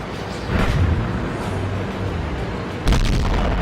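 A KV-1 tank gun fires in a tank video game, giving a loud, low boom that rolls over a steady rumbling background and is followed by a second sharp blast near the end.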